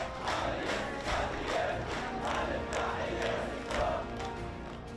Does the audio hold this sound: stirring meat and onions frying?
no